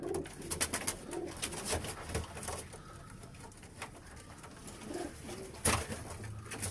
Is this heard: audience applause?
no